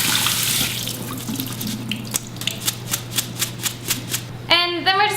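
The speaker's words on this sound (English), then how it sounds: "And run it under cold water." Cold tap water runs over buckwheat in a fine mesh strainer, a steady hiss with rhythmic splashing pulses, ending in a louder burst of running water.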